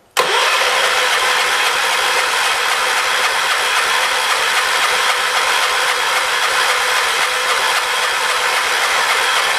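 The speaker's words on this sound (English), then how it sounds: "We'll try starting it up." A 1977 John Deere 212 lawn tractor, left slightly throttled up after sitting unused, kicks straight into a loud, steady mid-pitched engine roar that runs on without letup for nearly ten seconds, with no voices.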